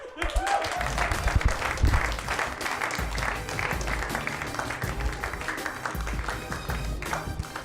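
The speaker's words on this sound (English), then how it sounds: "One more big round of applause for Brian Babylon." Audience applause closing a Chicago stand-up comedy show, a steady roomful of clapping with cheers and whoops layered in, sustained at even volume for several seconds.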